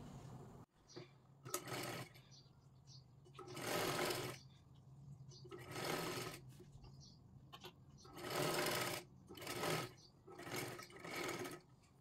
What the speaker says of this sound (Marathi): हे पहा अशा पद्धतीने ही पूर्ण शिलाई मारली।